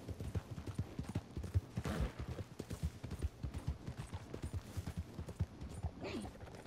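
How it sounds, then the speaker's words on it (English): Stolen horse in Red Dead Redemption 2 galloping with quick, rhythmic hoofbeats that continue steadily throughout, fairly close and moderately quiet. "Just stole the horse."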